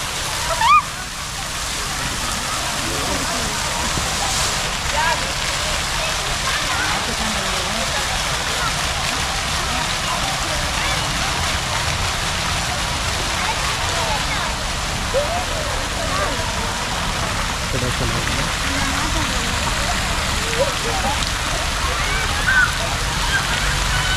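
A water fountain in a musical garden sends out a steady, unbroken rush of falling and splashing water throughout, with faint voices murmuring in the background.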